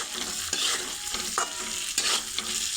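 Eggplant mixture frying and being stirred in a pan with curry leaves, a steady close sizzle broken by scraping stir strokes about every half second.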